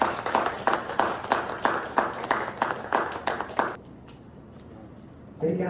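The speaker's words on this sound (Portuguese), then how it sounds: "Uma salva de palmas para Denise" A seated audience claps in a steady burst of applause to welcome speaker Denise at an ethics and customer-loyalty talk, then the clapping stops abruptly and the room goes quiet.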